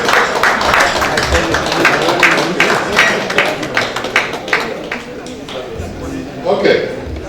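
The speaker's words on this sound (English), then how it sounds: "Nathan, let's applaud him." An audience at a panel discussion applauds, a dense patter of clapping that gradually thins out over several seconds, with voices talking over and after it.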